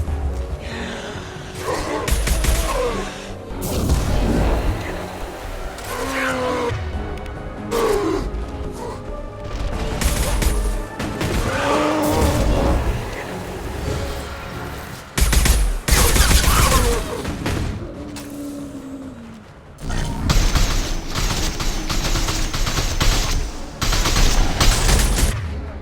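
Gunfire in Mass Effect 2, heavy and sustained, with dense bursts and booms that keep going across the whole stretch, loud and close, with some impacts and effort sounds mixed in.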